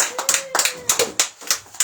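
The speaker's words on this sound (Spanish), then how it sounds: "Denle un aplauso a Jesús." A church congregation applauds during a worship service: loud, bursty clapping in uneven clusters, close by, with a faint voice in the background.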